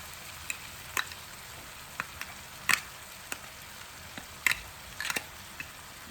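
Sardines in olive oil sizzle in a pan for an Italian-style pan pizza, a quiet crackle with scattered sharp pops spread unevenly over several seconds.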